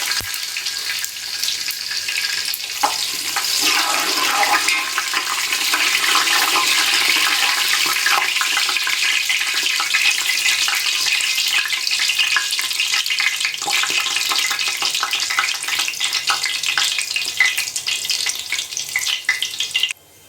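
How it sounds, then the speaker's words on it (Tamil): Cloves, fennel seeds, cinnamon and cardamom frying in hot oil for a prawn biryani, giving a loud, steady hiss and crackle that fills the whole stretch before cutting off at the end. "எண்ணெய் காய்ந்தது லவங்கம் சோம்பு பட்டை ஏலக்காய் இதெல்லாம் போட்டு"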